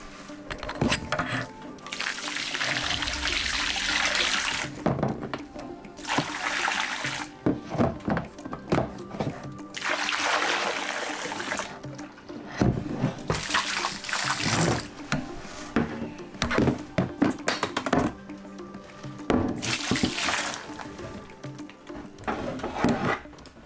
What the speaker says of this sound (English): Okay, so we're going to pour the soap water in here.